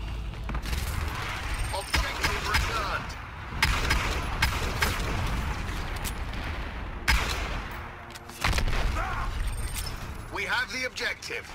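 Gunfire crackles in the online shooter game Dirty Bomb as rapid bursts and sharp single shots over mechanical game noise, loud and steady, with someone talking over much of it.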